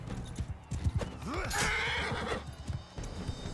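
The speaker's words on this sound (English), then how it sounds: "Just get off the horse, man." Horse in the Mount & Blade video game, with hooves clip-clopping in a steady rhythm and a loud whinnying neigh rising and falling midway, close and clear.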